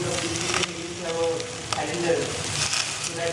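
Carrot and potato pieces frying in a hot pan for vegetable biryani, a steady crackling sizzle with a few stirring scrapes, close and fairly loud.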